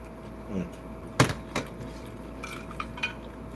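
Large plates clatter in a home kitchen during preparation of nasi goreng mawut, with a few sharp clinks and knocks spread over a quiet background.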